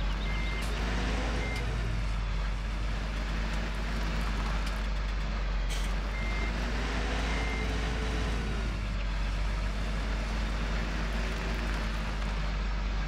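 A truck in Farming Simulator 17 sounds its reversing alarm, a faint, evenly spaced beep repeating over a loud, constant engine drone with no talk.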